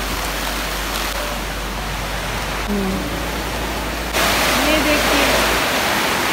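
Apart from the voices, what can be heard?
heavy rainfall in a village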